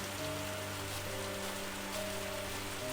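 Steady, dense rain pours down without pause, a constant hiss of heavy drops with a faint low hum running beneath it.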